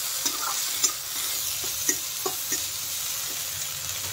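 Frozen peas are stirred in a pan of frying poha ingredients, with a gentle steady sizzle and regular light scrapes and taps of the spoon every half second or so.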